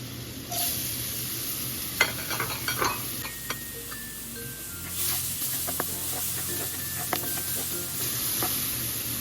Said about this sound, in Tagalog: Gigisa na natin yung ating bawang. Tapos susunod natin yung sibuyas.